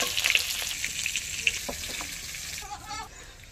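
Elephant foot yam pieces with salt and turmeric frying in oil in a pan, a close sizzle with stirring scrapes and a brief watery gurgle near the end, moderately loud.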